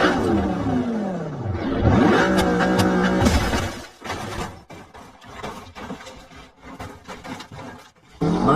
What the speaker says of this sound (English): Dodge Challenger.